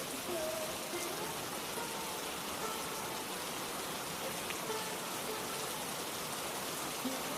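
Rain falls steadily as a faint, even hiss of drops with no pauses, soft and diffuse throughout.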